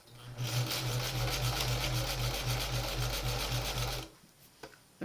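A sewing machine stitches a quilt with a roller ball foot, running steadily at close range with a fast, even pulse for about four seconds before stopping abruptly, leaving near silence.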